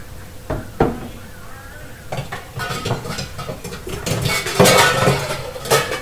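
Kitchen clatter from a knife being handled: sharp metallic clinks and knocks against dishes and a cutting board, irregular and close, over a low room hum with no talk.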